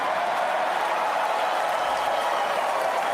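A crowd at a political rally in Montgomery bursts into dense, continuous applause that holds at an even, loud level for a few seconds with no distinct voices.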